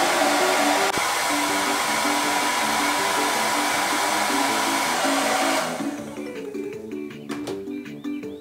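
A 1,500-watt household blow dryer runs with a loud, steady broadband whoosh and motor hum for most of the stretch, then is switched off and winds down near the end, leaving quieter handling noises.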